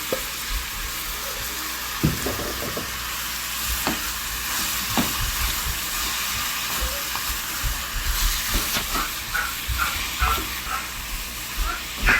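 Garlic and tomato frying in a pan, a steady bright sizzle with occasional stirring scrapes and clacks of a utensil, close and continuous throughout.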